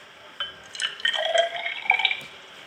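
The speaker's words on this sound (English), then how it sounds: "put it into the test tube, and we're going to add a bit of water to that and dissolve it" Water trickles into a glass test tube holding powdered copper sulfate in a school chemistry demonstration, giving a faint sequence of close, bright glassy drips and gurgles.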